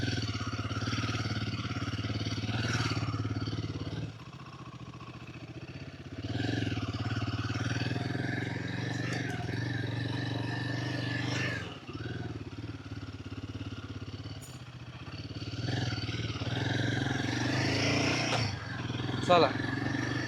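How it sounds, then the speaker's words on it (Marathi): A motorcycle rides toward the beach beside a hotel, its engine droning steadily in the background with a few revs, while someone talks over it throughout. "बीचवर बाईक घेऊन"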